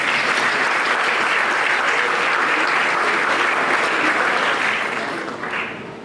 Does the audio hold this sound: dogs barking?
no